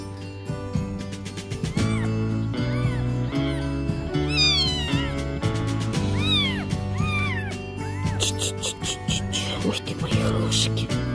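Five newborn kittens, about two days old, give repeated high, rising-and-falling meows close up over a constant low hum, with several meows overlapping and some voiced sounds in the background.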